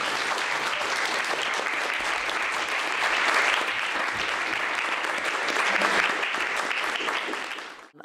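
An audience applauds at the 2024 mock trial finals: dense, steady clapping from a large crowd, sustained at even loudness for about eight seconds before quickly dying away at the end.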